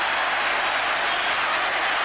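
A football stadium crowd applauds and cheers for a hat-trick goal, producing a dense, even wash of clapping and roar that stays loud for the full two seconds.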